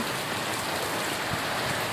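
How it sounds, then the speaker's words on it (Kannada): Heavy rain pours down in a village, a dense, steady hiss of drops hitting surfaces, loud and unbroken throughout. "ಮಳೆ ಅಂತೂ ಜೋರು ಜೋರು ಅದ ರೀ"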